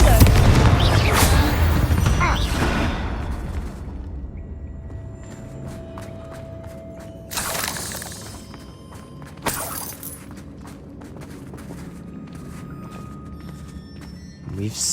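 Spell blasts Bombarda and Confringo in Hogwarts Legacy, a video game. There are heavy explosive bursts with rumbling booms and sharp crackling impacts, one big blast at the start and two more further on, with debris and footsteps between.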